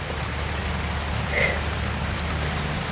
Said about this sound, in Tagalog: Ngayon umulan na naman.